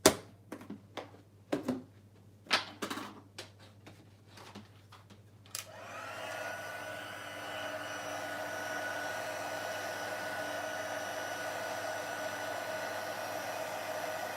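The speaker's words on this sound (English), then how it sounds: "we can bring the heat tool in just to melt those powders" After several sharp clicks and taps, a heat tool starts up and blows with a steady, even whoosh as it melts embossing powder on a Halloween card craft, with no talk.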